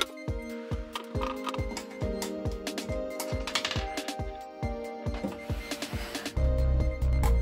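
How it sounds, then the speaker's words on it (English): Screws being undone on the side of a Pioneer CLD-A100 LaserActive player: a fast, steady run of close, crisp clicking ticks, ending in a louder low hum. "There's two screws on the side that need to be undone."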